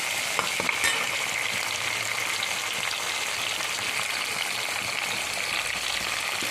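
Onions frying in a pan for an aloo baingan curry, a dense, continuous hissing sizzle that holds steady and fairly loud throughout, with no speech.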